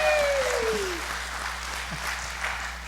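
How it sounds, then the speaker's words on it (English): Audience applause at a church gathering after a giveaway winner is called up, moderate clapping that fades gradually, with a faint tone gliding downward at the start. "applause"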